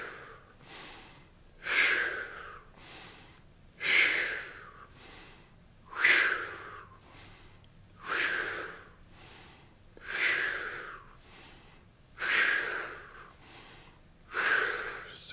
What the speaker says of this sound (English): Deep breath in through your nose, exhale through your mouth.